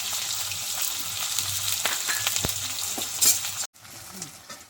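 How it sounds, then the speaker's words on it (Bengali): Chopped onions frying in hot oil with cloves, cinnamon and whole cumin, a loud, continuous close sizzle with stirring scrapes, briefly cut off near the end before resuming more softly. "পেঁয়াজটা ভালো করে একটু ভেজে নেব।"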